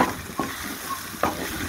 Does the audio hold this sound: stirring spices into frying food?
yes